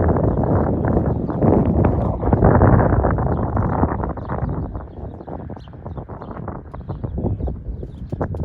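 Heavy outdoor wind buffets the microphone with a loud, continuous low roar that swells and eases slightly, with no clear voices over it.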